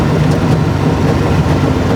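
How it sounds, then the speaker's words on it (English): Alfa Romeo 33 race car engine on overrun through its carburetors, a steady loud low rumble with rough, burbling texture throughout, heard from inside the car on a road drive. "But I could just listen to the overrun of those carburetors."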